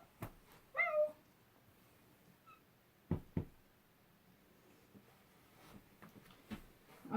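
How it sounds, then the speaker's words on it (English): A cat on a bed lets out a single short, close meow in a quiet room, followed by scattered soft knocks and thumps, with no voices. "There's a cat on the bed."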